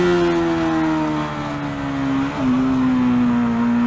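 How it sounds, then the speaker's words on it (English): A Bajaj Dominar 400 motorcycle engine drones loudly and steadily while downshifting, its pitch falling slightly before a brief dip and a quick blip as the revs rise again. "So let me do more aggressive downshifts."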